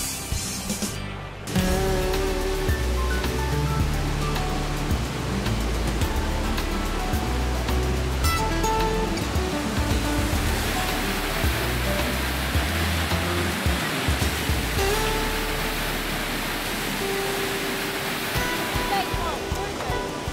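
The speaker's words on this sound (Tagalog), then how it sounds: "We are now here at Tangadan Falls." Tangadan Falls pours with a dense, steady roar of rushing water that fills the whole scene at close range, while people talk over it.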